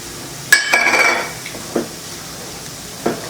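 Spoon scraping and clinking in a pan as curry powder is stirred into sautéed tomatoes for Tamil-style egg podimas, a clattering burst followed by two fainter taps, close and alone.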